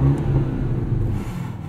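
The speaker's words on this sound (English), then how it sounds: "This exhaust is just fantastic." A 2022 BMW Alpina B8 Gran Coupe drones and rumbles steadily with a low throaty exhaust note, heard with windows down, close and fairly loud, briefly.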